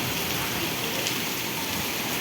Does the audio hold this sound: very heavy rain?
yes